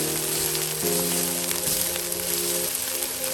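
Chili and garlic sizzle while being stir-fried for a mixed seafood stir fry, a dense, steady frying hiss under a constant tonal hum from the stove or fan, with no talking.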